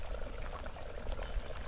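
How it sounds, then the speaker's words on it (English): Steady trickling water, a continuous soft babble of liquid running close by with no voices. "water's running down here again in this little gully"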